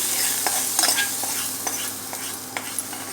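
Hot tempering with asafoetida poured into peanut chutney, a continuous close sizzle with several light clinks and scrapes of a spoon scattered through it, and no talking.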